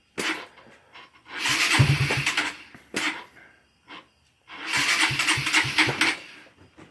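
A dirt bike engine is started repeatedly: two loud, rough bursts of engine revving, each followed by a short pause and a brief sputter between attempts.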